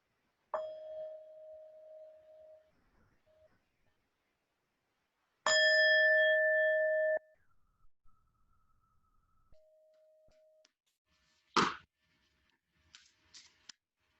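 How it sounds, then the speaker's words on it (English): A single bell strike rings out clear and close in a quiet room, standing apart from a few softer sustained tones and brief clicks around it. "Ring the bell one time."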